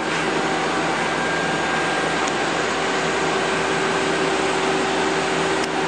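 A 2010 Mazak Nexus QT 200 II CNC lathe with its spindle running at 1370 RPM, a steady loud whirring hum with a constant tonal whine, unbroken and without voices.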